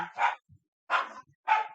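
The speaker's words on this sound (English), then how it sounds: "the dogs have come in" Three short, sharp dog barks spaced evenly apart, fairly close and loud, with brief silence between them.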